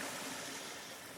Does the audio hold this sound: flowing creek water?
yes